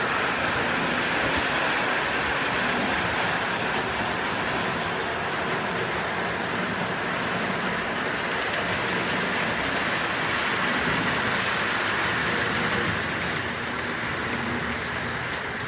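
A Lionel "The General" model train locomotive runs continuously on its track on a layout, giving a steady rolling rumble and hum with faint rhythmic clicking, close and unbroken.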